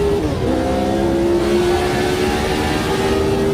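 A Formula 1 car engine in the Automobilista 2 racing game howls through a tunnel, a loud, sustained high-revving drone holding steady pitch with slight shifts, heard alone without any talking.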